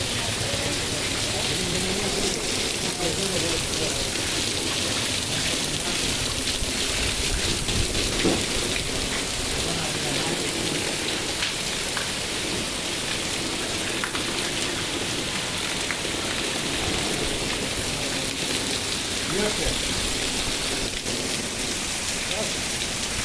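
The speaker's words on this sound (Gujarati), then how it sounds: "તળાજામાં વરસાદ શરૂ છે બપોરનો સમય" Heavy midday rain falls continuously in Talaja, a dense, even hiss of drops drumming on surfaces with no pauses, water running over the road.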